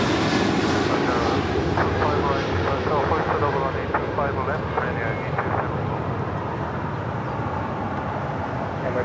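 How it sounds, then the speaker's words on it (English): Emirates airliner departing Los Angeles International Airport, a steady loud engine roar filling the whole span with broadband rumble, while radio chatter carries faintly beneath. "That was Emirates Flight 216 Super departing"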